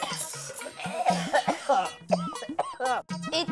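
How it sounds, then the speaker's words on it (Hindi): Repeated harsh coughing, several bursts in quick succession, close and fairly loud, with a little voice sound in between. "इतनी ज्यादा खांसी कैसे हो गई?"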